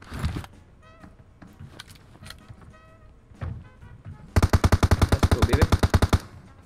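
In PUBG Mobile, a teammate suddenly opens fire nearby with a long, rapid automatic burst of evenly spaced, loud shots. Scattered game noises and vehicle sounds come first.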